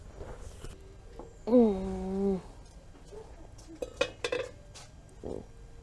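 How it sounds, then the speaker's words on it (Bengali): A metal lid is lifted off a pot in which butter cookies are baking, giving a drawn-out ringing scrape followed by a few sharp metallic clinks and knocks nearby, with no talking. "এবার ঢাকনাটা খুলে দেখবো"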